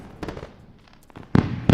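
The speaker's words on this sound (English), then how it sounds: "Let's go with a round of applause and fireworks for our 3 winners today." Fireworks pop and crackle faintly at first, then two loud, sharp booming bursts go off close together near the end.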